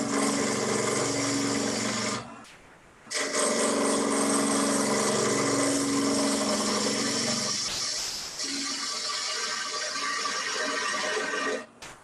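A woodturning lathe hums while a tool hollows out a bowl, a steady loud mechanical drone with brief drops around three and eight seconds and a short dip near the end, with no talk.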